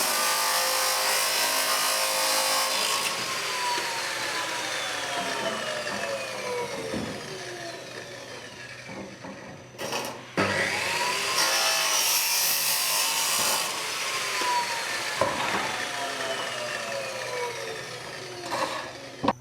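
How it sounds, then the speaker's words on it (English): A drop saw cuts through a metal roofing downpipe with a loud, continuous grinding whine and shifting metallic tones, briefly dropping out near the midpoint before biting in again. "I've got the drop saw set up"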